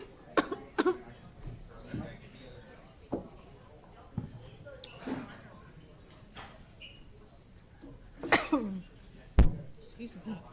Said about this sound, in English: I'm coughing into the mic.